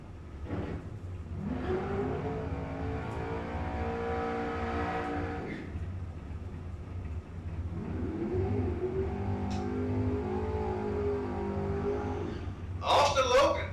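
Super Pro drag race cars lined up heads-up at Gainesville Raceway in Florida, their engines revving in two loud, sustained surges with harmonic growl, a voice talking faintly underneath.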